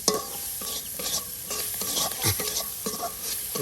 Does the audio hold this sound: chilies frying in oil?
yes